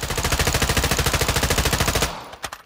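A Knight's KS-1 rifle in Call of Duty Modern Warfare II fires a loud, steady full-auto burst of about two seconds. A few separate shots and clicks follow as it stops.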